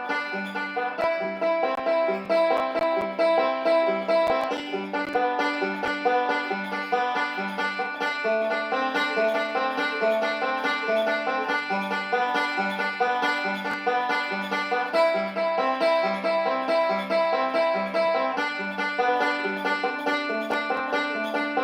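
A banjo picks a repeating square roll pattern, middle, thumb, index, thumb, giving a steady, bright cascade of plucked notes that is close, even and continuous with no talking over it.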